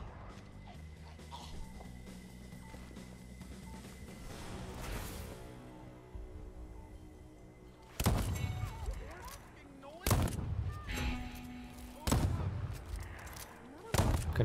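Gunfire in the Deathloop video game, several loud sharp bursts of shots spaced a couple of seconds apart over ambient game noise, with voices talking in between.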